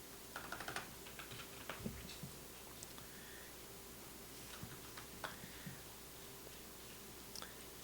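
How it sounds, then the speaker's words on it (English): Quiet, steady typing on a computer keyboard, soft clicky keystrokes in irregular bursts with faint background noise and no talking. "I'm typing the rotor into the author field."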